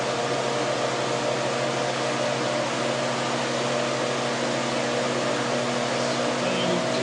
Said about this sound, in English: I guess you can hear the system accelerating.